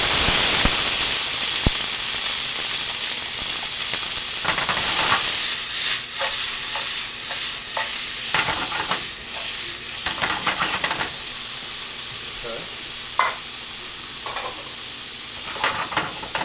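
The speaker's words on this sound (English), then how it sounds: "To that, we're gonna add about 2 cups of our frozen peas and vegetables." Frozen peas and mixed vegetables hitting hot oil in a hot pan, a loud hissing sizzle that settles down, with bursts of stirring scrapes and crackles throughout.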